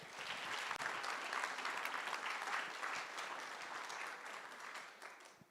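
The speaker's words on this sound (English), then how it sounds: "Please give them a round of applause too." Sustained audience applause at a guide dog school graduation ceremony for the blind, a dense steady wash of many clapping hands that holds for several seconds before tapering slightly at the end, with no talk over it.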